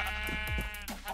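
Sheep in the Minecraft video game bleat in a couple of short, close wavering calls over constant background noise, with no one speaking.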